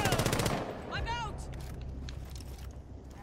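Rapid video game shooter gunfire bursts loudly at the start, then gives way to a fainter rumble, chirpy effects and background game sounds, with players talking over it.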